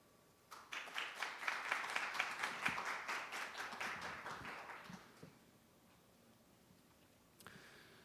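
Audience applause greets a keynote speaker at a business forum on smart construction in Korea, a dense burst of clapping from a seated crowd that swells for about four seconds, then thins and fades into room quiet.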